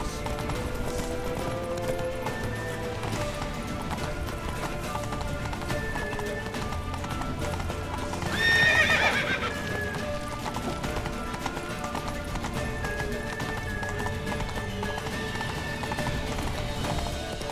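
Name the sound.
horses galloping in a video game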